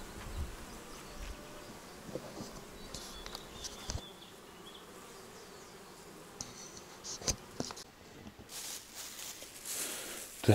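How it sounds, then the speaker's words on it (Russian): Honeybees at their hives in a taiga apiary hum in a faint, steady buzz, with soft rustling and a few light knocks scattered through. "Пчелки работают, трудятся."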